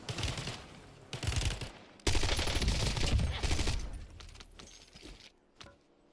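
Gunfire in the video game Call of Duty Black Ops 6, with bursts of rapid automatic shots at close range broken by short pauses and fading toward the end.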